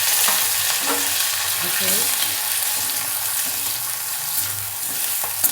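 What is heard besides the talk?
sautéing cumin, onion, tomato and curry leaves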